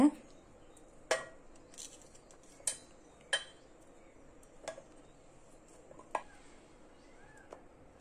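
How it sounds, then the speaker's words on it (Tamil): A knife chops a block of soap base into small pieces in a quiet room, giving a handful of sharp, separate clicks and taps against a hard surface a second or so apart. "இதை குட்டி குட்டியாக வந்து கட் பண்ணுறேன்"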